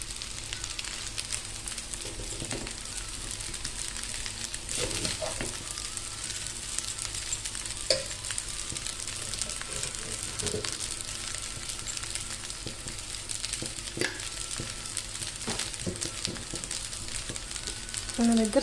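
Egg fried rice made with Sona Masoori rice being stirred and fried in a pan, with a steady soft sizzle and occasional scraping clinks of the spatula throughout.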